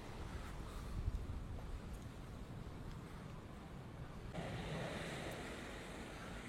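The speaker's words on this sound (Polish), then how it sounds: "I tylko ocean szumi." Ocean waves wash onto the shore at Lanzarote in a faint, continuous surf roar mixed with wind noise, the rush swelling slightly partway through.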